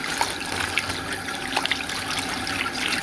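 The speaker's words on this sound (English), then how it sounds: "I'm just going to rinse them out in some lukewarm water" Toy 1990s mermaid dolls being rinsed in lukewarm water, a continuous trickling and splashing of running water with small irregular drips and slaps, close and moderately loud, no talk.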